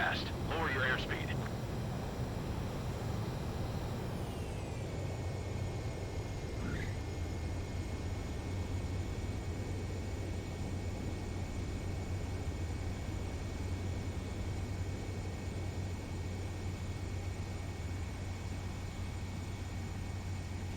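Fighter jet engine roaring steadily in Ace Combat 7, a loud continuous whine and rumble as the aircraft comes down onto the runway, with a brief tonal shift early on and a constant low drone throughout.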